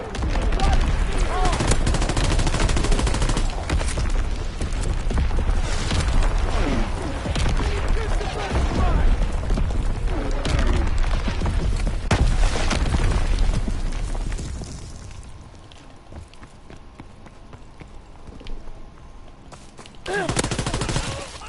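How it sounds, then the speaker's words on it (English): Artillery strike in Call of Duty WWII multiplayer: dense, loud bursts of gunfire and booming explosions roll on for about fourteen seconds, then fade to quieter distant crackle before a last burst. "Firing for full effect. Target zone locked."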